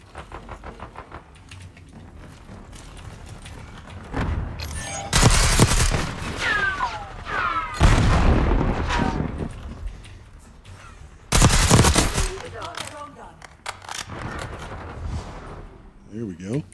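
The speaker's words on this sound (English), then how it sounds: "We'll go back to the assault rifle." Assault rifle gunfire in a video game comes in several loud bursts of shots, spaced out over the stretch, while people talk through much of it over quieter game noise.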